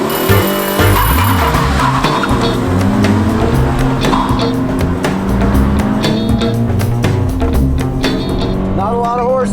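A low-powered sports car driven hard on a full race course, with loud engine roar rising and falling through gear changes and repeated sharp tire squeals and skids as it corners.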